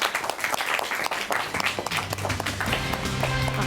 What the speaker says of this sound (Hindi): तो आइए नाज़रीन, जोरदार तालियों के साथ इस्तकबाल करें हमारी आज की मेहमान यूथ कांग्रेस लीडर राबिया किदवई का।